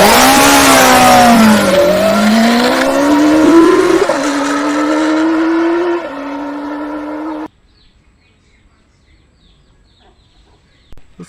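Toy super bike revving, a loud high engine whine that rises and falls in pitch for about seven seconds, then cuts off to near silence.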